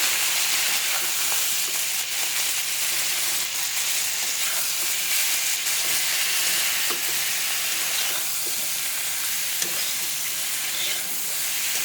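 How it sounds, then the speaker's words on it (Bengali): Vegetables and tomato fry in a pan while being stirred, with a steady bright sizzle and occasional scrapes and clicks of the spoon, close and continuous, no speech. "সব কিছু দিয়ে নেড়ে চেড়ে ফ্রাই করে নেব।"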